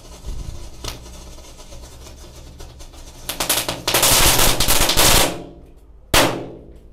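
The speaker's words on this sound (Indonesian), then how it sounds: "Disco happy flower pretek." A disco happy flower pretek firecracker, a small paper-wrapped mercon lit during Ramadan, crackles in rapid popping bursts that swell into dense loud fizzing and fade, followed by one sharp final crack.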